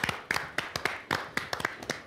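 Applause from a studio audience on a Turkish TV music program, a fairly sparse and uneven patter of claps heard at moderate distance, without any voices over it.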